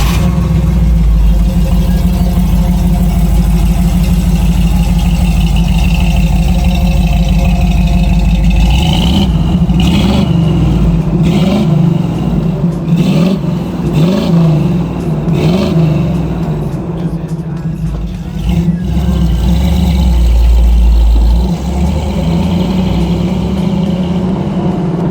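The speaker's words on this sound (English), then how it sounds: "this car makes a great rumble" A 1972 Chevrolet Nova SS Yenko tribute with a 350 V8 and 4-speed rumbles loudly and steadily up close, with a burst of revving in the middle that rises and falls before settling back to a deep idle.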